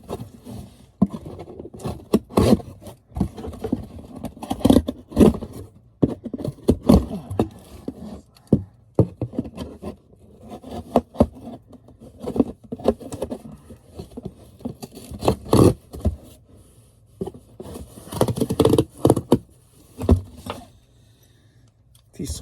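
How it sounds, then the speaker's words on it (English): Scissors scrape and score the inside of a cardboard box in repeated short irregular strokes, close up, with scratchy bursts and brief pauses between them and no speech. "It's hard to score the inside of a box with scissors."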